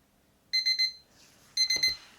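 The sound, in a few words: mechanical wind-up timer alarm ringing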